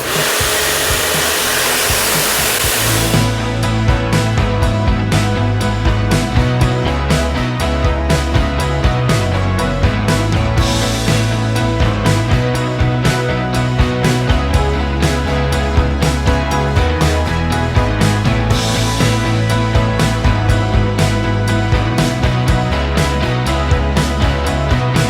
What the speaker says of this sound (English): we'll get the pressure washer on, get it all cleaned off underneath.